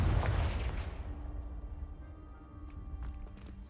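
A deep, booming magical blast from a Confringo spell in a fantasy video game, loud at first and rumbling away into a lingering low roar with faint debris noises.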